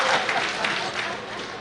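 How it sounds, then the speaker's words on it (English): Dense, continuous audience applause at an ANC provincial conference greeting the elected nominees, a broad wash of many hands clapping at moderate volume throughout. "We will give them a very big round of applause."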